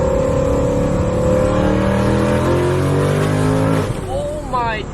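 A supercharged 700+ horsepower Ford Mustang GT pulls hard in second gear, its engine note climbing steadily and loudly from inside the car before an abrupt lift near the end, with voices talking over it.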